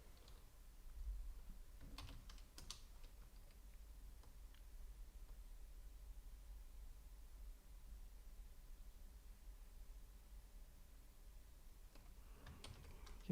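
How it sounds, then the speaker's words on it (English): Faint, sparse keystrokes on a computer keyboard as an email address is typed, a few soft clicks near the start and end separated by a long quiet stretch. "type in your real email address"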